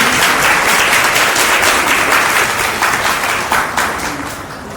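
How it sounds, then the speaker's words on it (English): An audience at a school essay and elocution competition applauds a student, a dense, steady wash of clapping that holds loud throughout, then eases slightly near the end. "Round of applause for Arushi"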